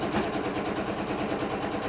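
A sewing machine runs steadily at close range, stitching fabric strips onto a quilted potholder or table mat with a fast, even mechanical chatter and no pauses.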